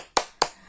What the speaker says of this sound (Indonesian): kita tepuk semangat dulu ibu